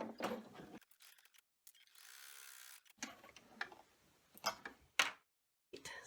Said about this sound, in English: put this one back in the machine, and we'll be running the stitch, which will be a tack down for the front pieces